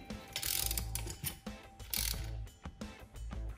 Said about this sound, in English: I'm going to insert the strut pipe clamp into this channel